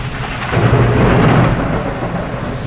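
A loud thunderstorm with heavy rain: a deep rumbling roll of thunder swells and fades over a steady wash of rainfall, close and without voices.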